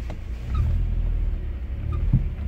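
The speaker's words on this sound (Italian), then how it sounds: "Il motore gira bene, si sente." A UAZ 2206 van engine idles in neutral with a steady, low rumble close by, even and unbroken, with no talking.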